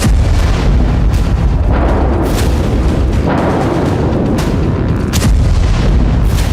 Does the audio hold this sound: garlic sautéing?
no